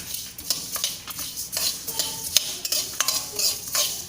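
Sambar ingredients stirred and fried in a pan, with a steady close sizzle broken by repeated scraping strokes of a utensil against the metal.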